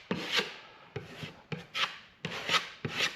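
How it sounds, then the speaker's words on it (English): A putty knife held flat scrapes filler across a plywood wall in a woodshop, making six or seven short, raspy strokes in an uneven rhythm, close and clear, with brief pauses between passes and no talking. "scrape with the knife flat"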